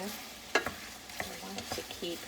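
Shrimp for shrimp scampi sizzling in a pan, with a few sharp utensil scrapes and clinks over a steady, moderately faint frying hiss.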